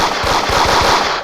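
Rapid automatic gunfire from a video game weapon in a grocery-store survival game, a steady burst of close, loud shots repeating in quick rhythm without pause.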